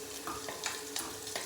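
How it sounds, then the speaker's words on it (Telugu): Onion sizzles and fries in a tempering of hot oil for a chana dal coconut curry, a steady close crackle broken by a few stirring scrapes, with no talking. "తాలింపులో ఉల్లిపాయ వేసాను."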